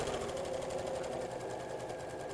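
Sewing machine stitching a buttoned cushion cover, a steady continuous motor whirr with a rapid needle rhythm running close and loud throughout, without talk.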